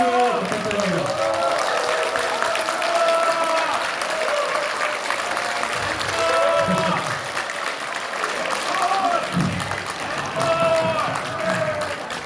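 Sustained crowd applause for an orchestra after its encore at a political party launch event, a continuous wash of clapping with shouts and voices rising and falling through it, moderately loud throughout.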